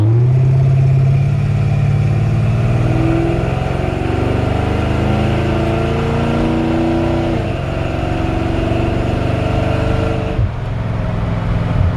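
A 1953 Ford F100 shortbed pickup with a 302 V8 drives along, its engine rumbling steadily and loud up close, pitch rising and falling as it revs through the gears, with no voices.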